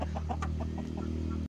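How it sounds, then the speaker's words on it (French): A rooster and three hens on a poultry farm clucking near at hand, a quick run of short soft clucks over a steady low background hum that cuts off abruptly. "Donc on a un coq avec 3 poules."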